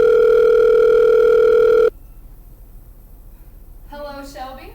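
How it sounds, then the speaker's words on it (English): A steady telephone dial tone hums loudly for about two seconds and then cuts off, followed by quiet line hiss and a brief burst of electronic tones, as a lifeline call is placed on a quiz show. "let's get Shelby on the line"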